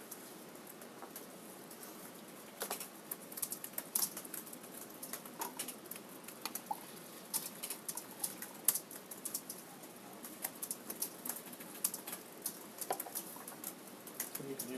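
Students typing on keyboards in a classroom, a soft scattered patter of key clicks spread throughout, faint and irregular against quiet room noise.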